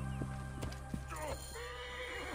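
A horse in the Assassin's Creed Origins video game neighs and whinnies near and loud, over a brief run of clip-clopping hooves, with game music and ambience underneath.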